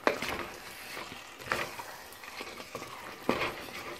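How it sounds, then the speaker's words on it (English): A spoon mashes cooking garlic potatoes in a pot, giving a soft, close, wet scraping and squelching with a few sharper knocks against the pot, low in level with no talking. "you can just start mashing them down with your spoon and they will do just fine"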